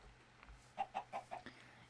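Minecraft chicken clucking in a modded game world, four short, evenly spaced clucks in quick succession, fairly faint and alone over a quiet background hum.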